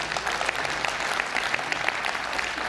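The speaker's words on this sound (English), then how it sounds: "Come on, that's a good thing to clap for." A church congregation applauds together, a dense, sustained round of clapping from a large room that holds steady for a few seconds.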